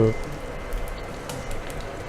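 Fish frying in a pan with a spoonful of marinade, a steady close sizzle and crackle that runs evenly for a couple of seconds.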